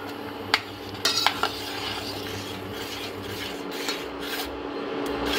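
Cardamom powder being stirred into a mango kulfi mixture in a pan on the stove, a steady close scraping and rubbing with a few sharp clinks of utensil against metal near the start.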